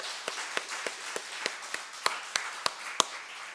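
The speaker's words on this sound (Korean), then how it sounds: "우리 교사 선생님들 박수 한번 드릴까요? 박수 한번." A church congregation gives a round of applause for the Sunday school teachers: a run of sharp, separate claps at a steady rhythm, getting a little louder toward the end, with a steady room hiss behind them.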